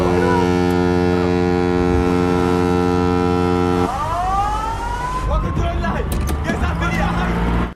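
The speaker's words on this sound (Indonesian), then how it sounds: "tiba-tiba para perompak dikagetkan dengan suara klakson kapal dari luar." A ship's horn gives a long, loud, sustained blast that cuts off midway, followed by a rising siren-like wail and mixed clatter and commotion.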